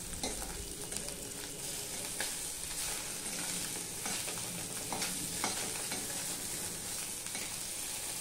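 Small fish fry in hot oil with a dense, constant sizzle that stays close and even, broken by light scrapes and clicks as the pieces are turned over one by one.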